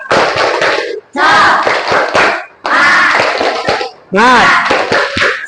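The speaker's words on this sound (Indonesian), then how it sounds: "Coba tepuk semangat" Students in an Indonesian classroom perform a patterned spirit clap, bursts of rhythmic group clapping mixed with shouted chanting voices, loud and close, separated by short pauses.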